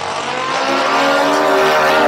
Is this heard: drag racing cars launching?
yes